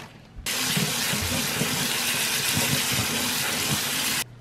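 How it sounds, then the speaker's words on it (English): Split peas rinsed under a running kitchen tap, water suddenly gushing on, splashing and rushing steadily for about four seconds, then cutting off abruptly; close and loud, no voices. "I need to rinse my beans."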